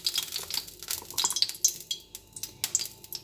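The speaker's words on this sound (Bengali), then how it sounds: "তারপরে কড়াই বসিয়ে কড়াইয়ের মধ্যে তেল" A wok is set on a home kitchen stove before oil is added for cooking egg chow mein: light metallic clinks and taps ring out in a quick, irregular series, close and fairly quiet.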